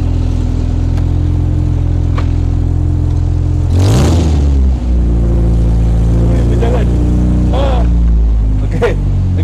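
A manual car engine cranks and catches about midway, then settles into a loud, steady idle with a few rev-ups. It is close and continuous, with speech throughout.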